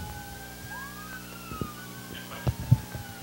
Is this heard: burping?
no